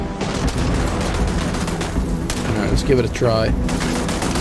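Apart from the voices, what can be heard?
shotgun firing in video game Starfield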